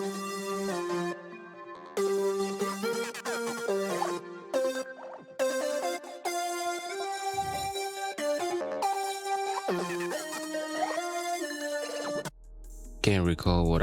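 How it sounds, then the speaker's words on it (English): A Serum synth lead carries a busy melody of bright, harmonically rich notes, smeared by heavy effects and dense throughout, with no voice. "The next sound is a lead. I believe this came from Serum as well"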